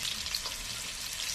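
Whole spices and potatoes frying in an oiled pan, a short, dense sizzle with light crackles, close and fairly quiet, with no talking.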